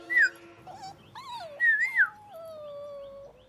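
A dog whimpers in a series of high, whining cries, two sharp rising yelps followed by a long, drawn-out falling whine, fairly close and clear with no talking over it.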